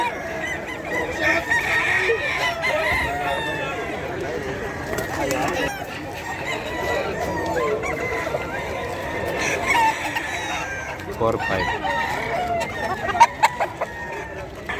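Chickens and roosters at the busy Bocaue pet market in the Philippines keep up a dense, continuous chorus of clucks and squawks, with occasional crowing and honking calls. People talk in the crowd beneath it.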